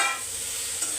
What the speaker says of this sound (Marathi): आता भेंडी चांगली परतून घे.